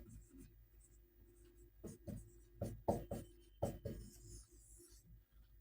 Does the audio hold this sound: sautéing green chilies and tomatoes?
no